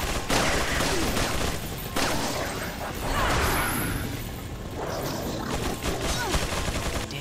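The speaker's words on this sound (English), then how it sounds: "the bullets go through walls" Dense, continuous gunfire in Resident Evil 4 runs through the whole stretch with crashes and impacts, loud and busy, with no voices above it.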